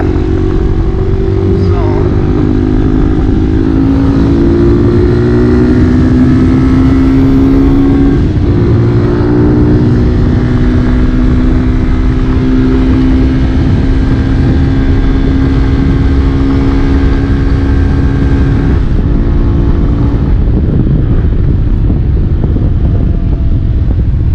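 Hawk DLX 250 EFI motorcycle engine droning steadily while riding, partly buried under heavy wind buffeting on the microphone; the bike has been sputtering as if running out of fuel at half a tank.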